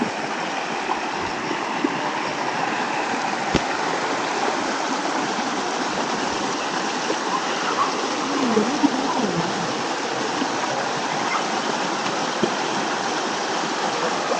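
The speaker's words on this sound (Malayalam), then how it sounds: "ഞങ്ങള് തോട്ടിലെത്തിട്ടോ." A forest stream on the traditional Erumeli–Karimala–Pampa pilgrimage trail flows steadily, giving a dense, continuous rushing wash of water heard up close, with no talk over it.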